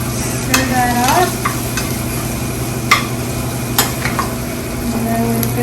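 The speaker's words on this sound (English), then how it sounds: "Stir that up." Paprika and cumin stirred into a sizzling pan over low heat for shrimp taco salad: a steady fry hiss with scraping stirs and a few sharp utensil clicks against the pan, close and fairly loud, no talking.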